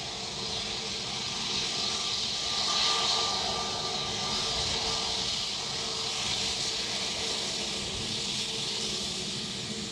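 Netherlands Air Force C-130 turboprop landing at Dublin Airport, a steady broadband engine roar with a faint tonal whine that swells slightly midway and holds loud and continuous throughout, with no talk.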